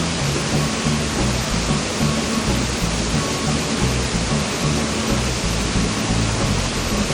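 A double waterfall on an Animal Crossing: New Horizons island pours as a loud, unbroken roar of rushing water, steady from start to finish with no talking.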